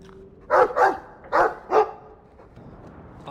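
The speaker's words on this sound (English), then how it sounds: "Well, woof to you too." A dog barks in the Dragon Age II video game, four short, clear barks in two quick pairs over a quiet game background.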